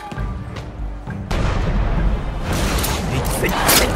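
Cannon fire booms during a castle siege in the Shadow Tactics: Blades of the Shogun video game, with a few heavy blasts rising over the busy game soundscape.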